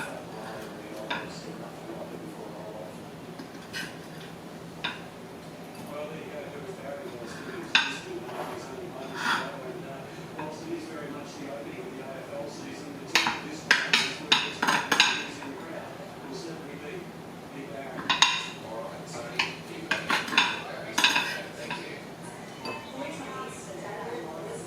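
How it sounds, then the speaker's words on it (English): Cutlery working through tender leftover steak, cutting it into bite-sized pieces on a plate, with soft clinks and scrapes that scatter and then cluster in later bursts under a steady room hum, close by. "I'm going to actually cut it into bite-sized pieces."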